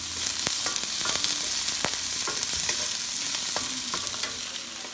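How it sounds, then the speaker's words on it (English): Garlic fries in a pan with a steady close sizzle and crackle, punctuated by the scrape and tap of stirring, with no talking. "And our garlic. Let's cook this for 1 minute."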